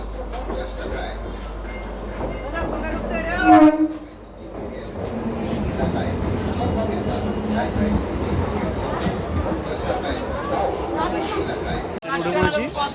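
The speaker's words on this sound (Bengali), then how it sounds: "ট্রেন ঢুকছে।" A Sealdah–Hasnabad local train pulling into platform 3 of a busy station, a long rumbling roll with rattling and clatter of the carriages under constant crowd chatter and nearby talking.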